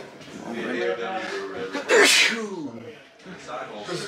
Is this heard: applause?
no